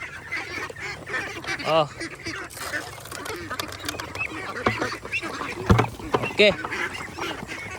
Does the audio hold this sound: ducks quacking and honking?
yes